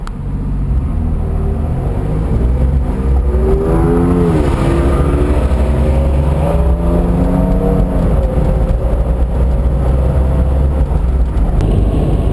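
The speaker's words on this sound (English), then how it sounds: "There's an EcoBoost Ford truck, says King Ranch on it." A Ford EcoBoost King Ranch pickup truck engine drones loudly and continuously in traffic, rising and falling in pitch as it revs and accelerates.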